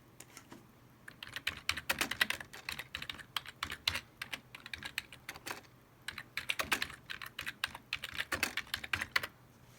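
Quick clattering keystrokes on a computer keyboard come in two bursts of typing separated by short pauses, close and fairly quiet.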